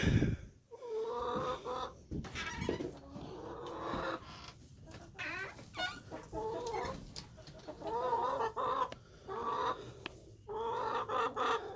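A backyard chicken flock clucks and murmurs continuously after coming in for the night, several hens overlapping in close, steady chatter with no talk.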